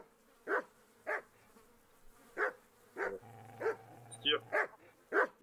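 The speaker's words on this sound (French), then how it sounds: "chien, il commence à avoir la haine." Dog barking angrily in the medieval game Kingdom Come: Deliverance, a series of about ten sharp, evenly spaced barks at moderate volume, with a low hum and a brief high chime in between.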